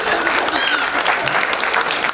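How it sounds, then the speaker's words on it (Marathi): A crowd at a live event in Pandharpur breaks into loud, dense, sustained clapping that fills the whole stretch without a break. "पुन्हा एकदा आपण जोरात टाळ्या वाजवू"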